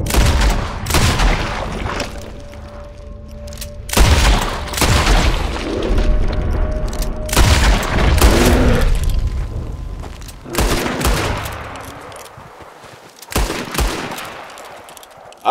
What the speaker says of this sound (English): I just put about 12 bullets in his hide, and he did not go down.